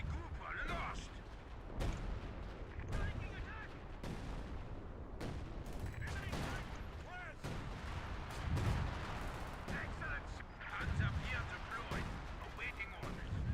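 Distant crackling gunfire and sniper shots from a World War II strategy game battle, scattered sharp reports and booms heard faintly beneath a commentator's steady talk.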